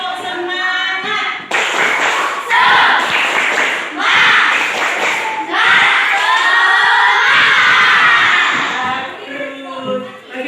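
A class of children claps the rhythmic tepuk semangat spirit routine, loud patterned claps mixed with shouted chanting voices that rise and fall across several rounds.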